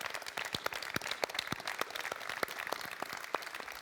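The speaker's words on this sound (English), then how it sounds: "So let's applaud our drivers." Audience applause for racing drivers at a Citroën press conference at the Paris Motor Show, a steady patter of many hands with sharp individual claps standing out, fairly close and sustained throughout.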